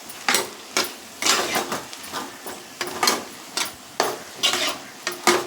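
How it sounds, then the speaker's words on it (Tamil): Chopped banana flower with salt being stirred in a hot pan, repeated rhythmic scraping strokes of a spatula against the metal with a soft sizzle between them, close and alone. "வாழைப்பூ வதக்கணும் நல்லா."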